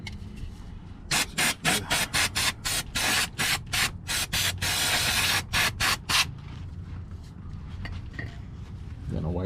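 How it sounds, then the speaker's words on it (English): Brake cleaner sprayed through a straw during maintenance on a 2005 Toyota Prius: a rapid series of about a dozen loud, sharp hissing bursts, then quieter handling sounds. "Brake cleaner that I'm using. You can use any brake cleaner works. Put on the straw here."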